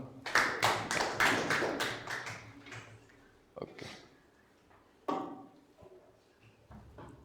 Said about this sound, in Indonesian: Jadi kita tepuk tangan satu kali lagi untuk kita semua.